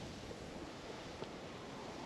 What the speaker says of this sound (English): it's super windy, as you can hear.